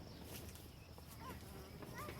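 A bee buzzes inside a greenhouse full of flowers, a steady faint drone that holds for a couple of seconds with slight swells as it moves close by.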